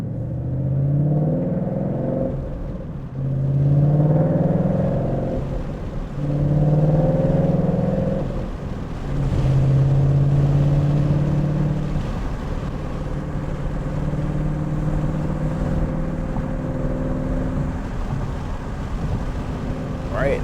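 Mustang GT V8 engine rumbling loud and close inside the car, with repeated rev surges during downshifts in the first half, then a steadier droning pull, with wind noise throughout.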